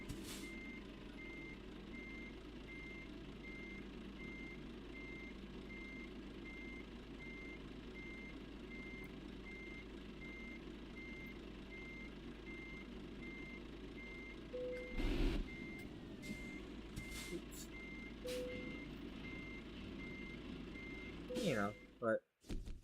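Steady truck reversing beeps from a truck simulator game, heard as a regular repeating tone over a constant low engine drone, with a few thuds and clunks near the end.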